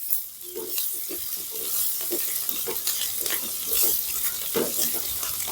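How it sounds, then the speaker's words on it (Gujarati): Ginger and garlic, one spoonful each, frying in a pan while a utensil stirs them, giving a steady sizzle with repeated scraping and clinking strokes throughout. "હવે નાખી દેવાનું આદુ ને લસણ, 1 ચમચી આખી આદુ ને લસણ આખી 1 ચમચી,"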